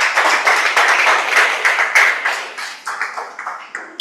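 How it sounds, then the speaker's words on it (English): A small audience at a Toastmasters club meeting claps loudly and close up, the individual claps distinct and rhythmic before thinning out and fading toward the end. "So let's give a big round of applause for Toastmaster Soumya."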